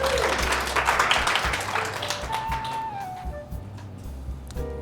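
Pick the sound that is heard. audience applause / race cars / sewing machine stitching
audience applause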